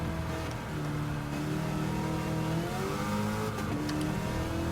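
A car fitted with a Hellcat engine swap revs hard in Gran Turismo 7, its engine pitch climbing and dropping through gear changes in a steady, loud drone that continues throughout without speech.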